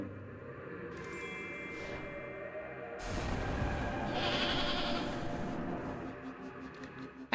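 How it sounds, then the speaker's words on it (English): A goat bleats a few times over a steady soundtrack in the game Little Goody Two Shoes, followed by a rushing, whooshing swell of sound. "I hadn't noticed the goat sound before."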